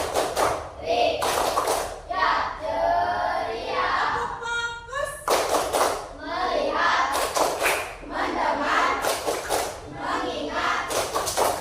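Children in an Islamic studies class perform tepuk, rhythmic clapping chants, with sharp bursts of group clapping alternating with chanted voices and a teacher's speech.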